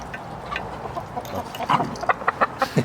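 Chickens cluck nearby, scattered at first, then a quick rhythmic run of clucks grows louder toward the end.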